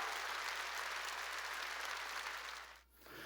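Church congregation applauding during a Korean sermon, a broad, even wash of clapping hands that holds steady before dipping briefly near the end and then resuming more quietly.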